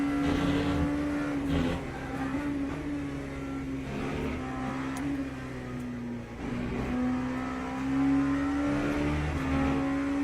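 A steady engine drone from LMP3 prototype race cars in the racing game Le Mans Ultimate, with a high sustained engine tone and another car passing, continuous and fairly loud without talking.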